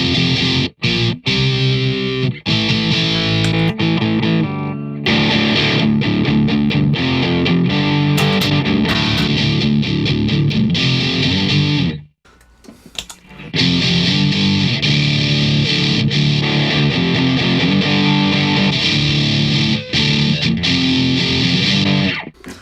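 Distorted electric guitar through a distortion pedal set with scooped mids and boosted highs, played loud and continuously with a brief pause near the middle.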